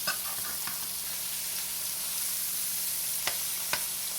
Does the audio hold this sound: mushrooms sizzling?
yes